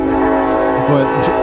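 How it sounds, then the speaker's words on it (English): Train horn blowing as a train passes nearby, a steady sustained tone, with a brief spoken word over it. "okay, that's a train."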